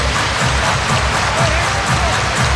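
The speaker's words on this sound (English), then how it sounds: "Everybody clap your hands." A crowd clapping at an NHL hockey game between the Colorado Avalanche and St. Louis Blues, a dense, steady wash of applause filling the arena without a break.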